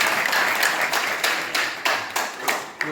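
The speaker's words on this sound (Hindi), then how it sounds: "तालियां तो बजाइए यार" Audience at a retired railway protection force association annual meeting in Gorakhpur claps together, a moderate burst of applause that gradually thins into scattered, fading claps.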